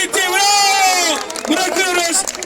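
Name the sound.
applause at a börek eating contest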